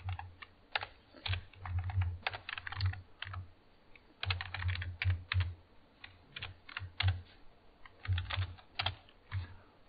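Rapid, uneven bursts of clicking keys on a computer keyboard as commands are entered for a home lab web server, close and clear, arriving in clustered runs with short pauses between them.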